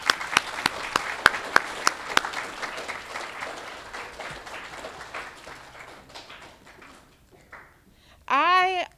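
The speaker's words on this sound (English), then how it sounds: "Let's give them a round of applause." At a 5th grade awards ceremony, an audience claps for two outstanding citizen award recipients; sharp, distinct claps taper into a softer murmuring patter, then a voice begins speaking near the end.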